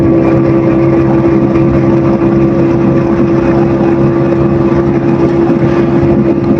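A Honda CD 70 motorcycle held at full throttle around 80 km/h gives a loud, steady engine drone with a constant pitch, alongside continuous wind and road rush.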